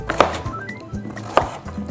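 A knife slicing a vegetable into thin matchstick fries on a cutting board, giving two distinct sharp chopping strikes with a softer scrape between them, close and clear with no talking.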